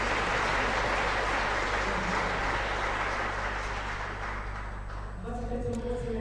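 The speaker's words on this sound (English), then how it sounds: "So give a round of applause." An audience at a grant program anniversary event applauds for the program winners, a sustained dense clapping that tapers slightly near the end as a low hum and a tonal sound emerge.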